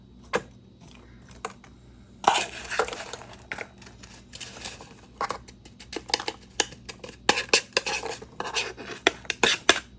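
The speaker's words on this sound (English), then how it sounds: "really want to mix it right now." Blueberry batter for a pantry bake is mixed in a bowl, with quiet pauses broken by bursts of scraping and clinking utensil taps against the bowl, irregular and close.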